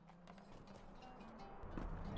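Horse hooves clip-clop faintly in a fantasy video game as a dwarf hunter rides into town, a quiet run of rapid soft thuds under a low ambient bed that swells slightly toward the end.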